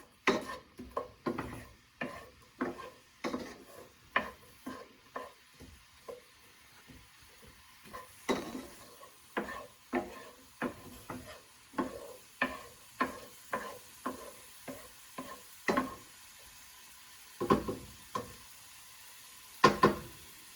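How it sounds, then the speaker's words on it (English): Onions are stirred and frying in a pan for Filipino pansit noodles, a series of regular spatula scrapes and knocks against the pan over a faint sizzle, close up with short pauses between strokes. "Mix the onions in and get started to heat."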